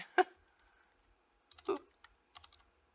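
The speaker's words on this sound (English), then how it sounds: "Look how wrong, like how awful I'm typing." Food entries are tapped into the Carb Manager app on a keyboard, giving a few quiet clustered key clicks in short bursts separated by near silence.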